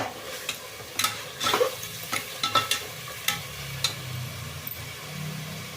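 A ground paste of mint, coriander and green chillies fries in oil for chicken pulao, with a soft continuous sizzle and a series of sharp spatula scrapes and taps against the pan, close by and without talk.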